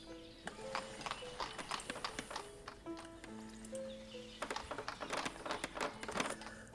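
Horses pulling a wagon in the video game Ostriv make steady clip-clop hoofbeats, quiet and continuous, with scattered clicks and brief tonal game chimes around them.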